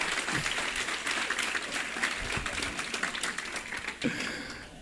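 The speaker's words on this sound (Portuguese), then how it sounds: "aplaude a Jesus, por favor" A church congregation claps for Jesus, a dense fast patter of many hands, fairly faint and steady before tapering off near the end.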